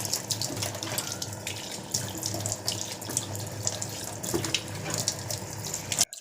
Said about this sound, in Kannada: ನೋಡಿ ಫಿಲ್ಟ್ರು ಆನ್ ಮಾಡಿದ್ದೀನಿ.